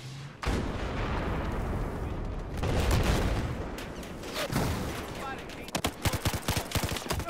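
Dense gunfire and booming explosions from Battlefield 4 multiplayer combat fill the scene, with sustained rumbling volleys giving way to sharp rapid bursts of shots near the end, with no talk heard.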